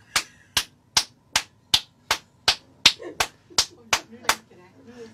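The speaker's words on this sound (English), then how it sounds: "Please clap the amount of corresponding to your selected floor." Thirteen quick claps land in a steady rhythm inside a clapping elevator to pick a floor, loud and close, with faint murmuring voices creeping in toward the end.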